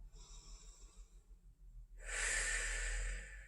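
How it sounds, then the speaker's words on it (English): A soft, faint inhale followed by a long, loud, airy exhale close to the microphone during a hip strengthening exercise class, with no talking. "Take a big exhale."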